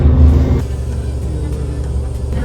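A city bus engine in Rome rumbles loudly up close, a deep surge in the first moments easing into a steady low drone as it moves along.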